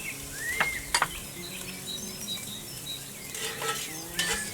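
Bacon sizzles and crackles steadily in hot fat on a Big Green Egg, with occasional metal utensil clinks and scrapes against the pan over a continuous fizzing hiss.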